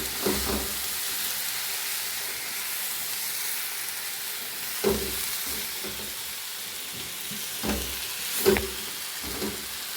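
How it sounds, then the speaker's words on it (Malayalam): Crushed coconut fries with snake gourd for a thoran in a pan, making a constant hissing sizzle with a few louder scraping stirs of the spoon against the pan at intervals. "ഇനി ഇതിലേക്ക് നമ്മുടെ ഈ ചതച്ച് വെച്ചിട്ടുള്ള തേങ്ങ ഇട്ട് കൊടുക്കുക. എന്നിട്ട് നല്ലപോലെ ഇളക്കി യോജിപ്പിക്കുക."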